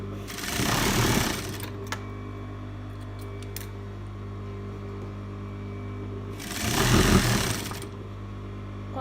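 A sewing machine stitches off-shoulder dress fabric with a steady low mechanical hum, rising into two louder bursts of fast needle chatter separated by a quieter running stretch.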